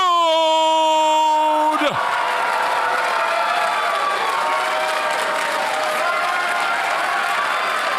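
A sustained musical tone cuts off and gives way to a roaring crowd at the Pokémon Trading Card Game World Championships Masters finals, with dense applause, whoops and cheers filling the hall and voices shouting within it.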